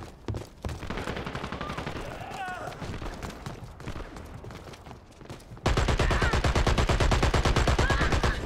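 Rapid automatic gunfire in Dirty Bomb, a dense rattle of bursts that grows much louder and more sustained partway through, with brief game voice lines over it.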